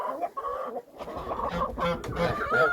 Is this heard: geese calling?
yes